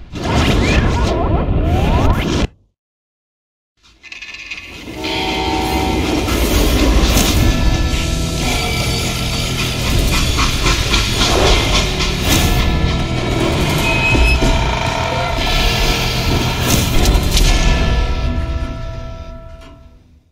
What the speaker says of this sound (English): They hopped a freight train